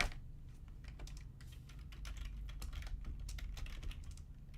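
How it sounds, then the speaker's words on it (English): Computer keyboard typing, a quick irregular flurry of soft clicking keystrokes close by over a low steady hum, with no talk. "Come on, keyboard."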